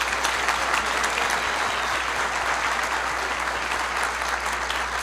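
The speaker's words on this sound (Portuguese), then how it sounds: "Uma salva de palmas para ela ter aberto a boca." Steady, loud audience applause at an entrepreneurship talk, a dense, unbroken roar of many clapping hands that holds at the same level for the whole stretch, with a low hum beneath.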